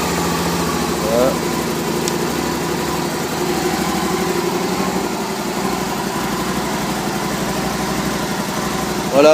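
A Can-Am Spyder RS engine idles steadily just after starting, a close, even low drone throughout, with someone talking over it.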